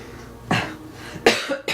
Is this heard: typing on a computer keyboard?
no